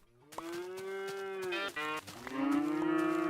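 A Minecraft cow lets out a long, harmonically rich synthesized moo, then a second moo overlaps and follows closely, both loud and close with no talking over them.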